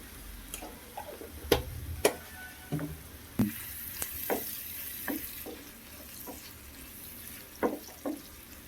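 Oil tempering with curry leaves crackles in a pan as turmeric goes in, a continuous sizzle broken by sharp pops and spits spaced irregularly, some close and loud.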